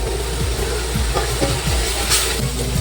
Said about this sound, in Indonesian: baru kita masukin minyak secukupnya. Kita tumis sampai matang